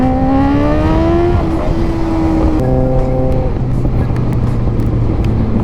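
A Kawasaki ZX-6R motorcycle engine drones close by during a ride, its pitch rising and then settling as the revs change, with a few sharp exhaust pops amid heavy, constant wind rush.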